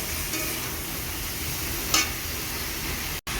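Starfruit pieces fry in a pan for a pickle, giving a steady, close hiss of sizzling oil with one brief stir midway and a short cut near the end.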